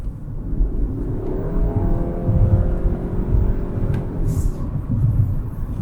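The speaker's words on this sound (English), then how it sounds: "it's a little loud, but it accelerates pretty decently" The gas engine of a Ford Escape plug-in hybrid pulls the car forward under acceleration, heard from inside as a steady rumbling drone with a rising tonal whine and fairly loud engine noise.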